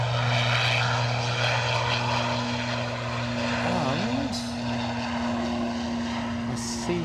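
A smoky, pinging Boston-bound propeller aircraft departing Edinburgh Airport, a loud steady engine drone with strong humming tones and a brief wavering pitch shift, close and continuous with faint talk underneath.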